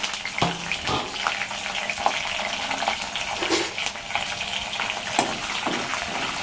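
Curry leaves and garlic fry in a pan over medium heat, making a steady, close crackling sizzle with scattered sharper pops throughout, and no voices.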